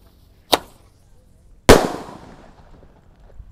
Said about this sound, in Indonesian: Selanjutnya ini ada mercon emas. Kita nyalakan.